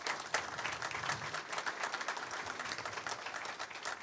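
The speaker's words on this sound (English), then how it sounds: "So give them another big hand before they finish up." Audience applause for four candidates at a county Republican Party candidates forum in Wilmington, a steady, dense clapping from a full room that holds at an even level throughout.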